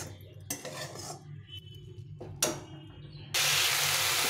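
A spoon stirs a chhena mixture with cardamom in a pan, making scraping clinks and clatter, ending in a sudden loud, continuous hiss.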